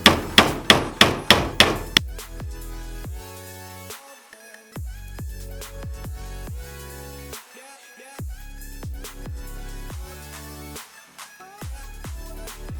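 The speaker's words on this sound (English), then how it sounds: "and now I'm gonna plant the nails" Hammer blows driving nails into a wooden sword, a quick run of sharp ringing strikes up close, then slower spaced single hits with pauses between.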